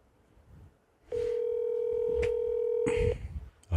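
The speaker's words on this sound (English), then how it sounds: "I'm gonna try calling her on the phone here." A telephone sounds a steady dial tone lasting about two seconds, with a few clicky keypad presses as a call is placed, followed by brief rustling.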